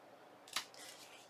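Scissors snip through vellum paper in a single brief cut, a crisp close slicing sound followed by faint rustling, with no talking.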